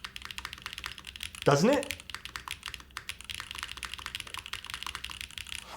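Typing on a Duo M prototype mechanical keyboard fitted with keycaps, giving a steady stream of close, crisp key clacks with a voice speaking briefly over it.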